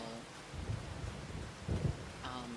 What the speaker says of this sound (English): And I know it's raining, so I'm not supposed to mow in the rain